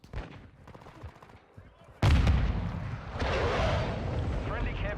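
A grenade in Modern Warfare II goes off with a sudden loud blast partway through, after a quieter stretch, and a rumbling, crackling aftermath follows. A player talks faintly before the blast.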